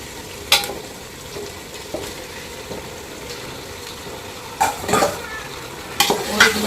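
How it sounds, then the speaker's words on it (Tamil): Chicken sautés in a pan for chicken biryani with a steady background sizzle. Several louder scraping stirs and utensil knocks against the pan come through clearly at intervals. "சிக்கன் வந்துட்டு ஒரு 5 நிமிஷம் நல்லா வதங்கட்டும்"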